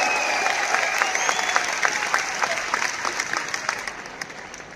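A live audience at an RCM event in Delhi applauds steadily and fairly loudly, a dense patter of many hands that eases off slightly toward the end, with no voices over it.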